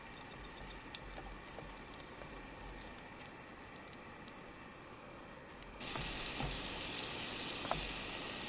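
A trout fries in a pan while camping, giving a continuous faint crackling sizzle with scattered ticks that rises to a louder, fuller hiss partway through.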